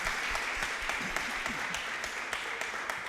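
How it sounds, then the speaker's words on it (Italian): Church audience at a Sunday worship service in Verona applauds the day's speakers, a steady wash of many hands clapping with crisp individual claps audible throughout, fairly close and continuous for a few seconds. "Facciamo un applauso a tutti i nostri speaker di oggi."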